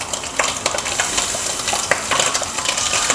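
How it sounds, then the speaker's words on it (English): Diced red potatoes and pancetta tumbling into a pan, giving a busy run of clattering, scraping and light sizzling, close and steady with no talk. "So we get that pancetta and those potatoes in there"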